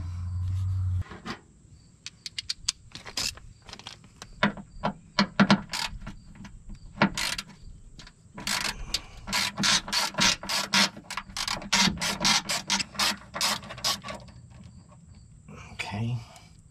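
A ratchet with a 10mm socket turning a fastener on a brake hose part, heard as bursts of rapid clicking ratchet strokes, close and fairly loud, separated by short pauses and occasional handling noise.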